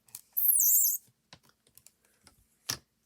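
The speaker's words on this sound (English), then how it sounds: "It just clicks in beautifully." A Stamp & Spin stamping tool clicks into place, giving a few sharp, close, quiet clicks and taps against near silence, along with a brief higher-pitched squeak early on.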